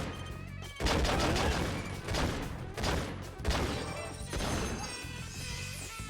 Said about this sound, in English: Oh, that explains it! Fucking rocket launcher,